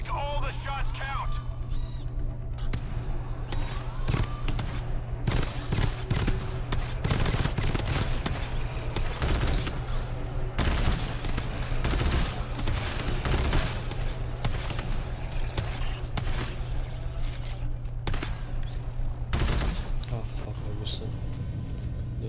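Heavy gunfire from the co-op shooter GTFO keeps up for the whole stretch, with loud, rapid bursts and single shots, booms and clatter, while players talk throughout.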